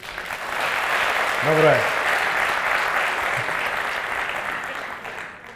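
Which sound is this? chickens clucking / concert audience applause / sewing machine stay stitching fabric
concert audience applause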